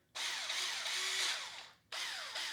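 A Black+Decker 8V MAX cordless drill runs its keyless chuck to grip a bit: a steady, close motor whine lasting over a second, a short pause, then a second burst, with no speech.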